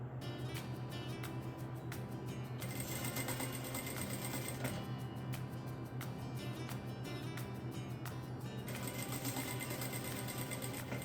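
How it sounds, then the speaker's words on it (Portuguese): Sewing machine stitching a fabric table runner: a steady, continuous mechanical whir runs for the whole stretch at an even level, with no talking. "Costuro."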